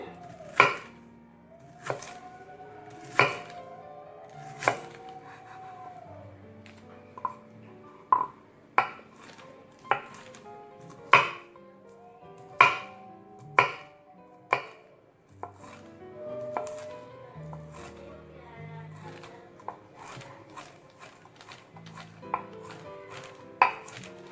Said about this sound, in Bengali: প্রথমে দেখুন আমি মোটা অংশটা একটু কেটে দেখিয়ে দিচ্ছি আমি ছুরি দিয়েই কাটছি এখানে